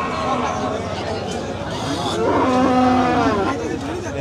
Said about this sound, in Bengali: এটা হচ্ছে অস্ট্রেলিয়ান গরু।